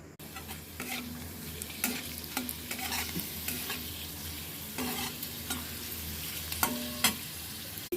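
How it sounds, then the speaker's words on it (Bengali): Peanuts and small papad pieces fry in hot oil with a soft, continuous sizzle and faint spatula scrapes and taps, quiet and close, without any voices. "এগুলোকে ফ্রাই করে নেব"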